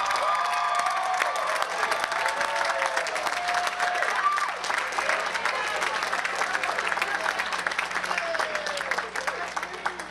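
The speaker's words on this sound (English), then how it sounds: "give them a well-deserved round of applause" Applause from the crowd at Fitchburg State University's 2016 undergraduate commencement, a broad, steady wash of many hands clapping in a large hall with scattered cheers and voices mixed in.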